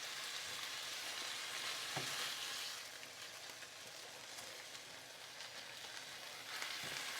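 Pork frying in a pan on the stove, a steady broadband sizzle running the whole time with a couple of faint clicks, no voices over it.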